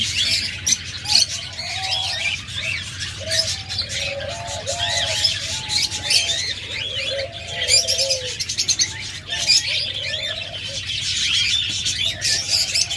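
Many pet birds, including lovebirds, budgerigars and cockatiels, chirp and tweet continuously nearby, with soft cooing mixed in, a busy steady chorus with no talking.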